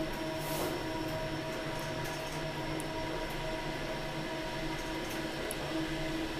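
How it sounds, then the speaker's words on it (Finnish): Metro train at Espoonlahti metro station in Espoo, a faint steady rumble of the train with brief high squeals and clicks of wheels on rail throughout, heard at a distance without any voices. "Metro."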